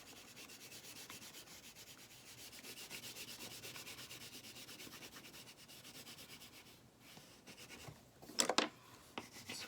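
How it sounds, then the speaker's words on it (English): A blue crayon colors lightly across paper in a steady, soft rubbing scratch, close and quiet, with a few sharper strokes near the end. "you're just going to very carefully color in all of your sky lightly with your blue crayon"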